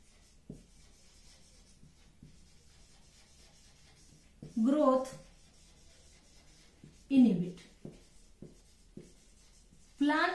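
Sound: teacher writing notes during biology lesson

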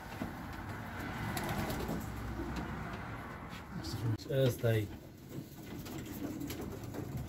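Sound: ringed birds cooing at a bird breeding loft

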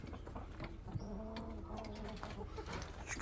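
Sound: collared dove cooing

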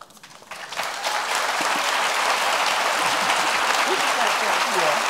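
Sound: audience applause for the panel introduction

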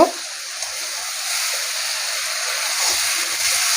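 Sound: jackfruit and potato frying and stirred in spiced oil

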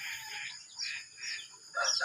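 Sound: hens clucking

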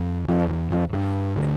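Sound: harmonic distortion from overdriven audio transformer

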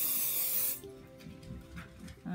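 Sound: spraying 505 temporary fabric adhesive spray

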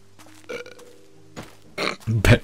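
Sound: character burping in video game The Witcher 2

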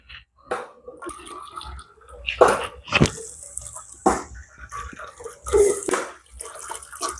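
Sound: straining dissolved sugar syrup

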